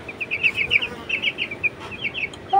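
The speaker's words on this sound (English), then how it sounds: "So beautiful, colorful chicken!" A colorful chicken gives a quick series of light, high clucks in short bursts with brief pauses, fairly close over a quiet background.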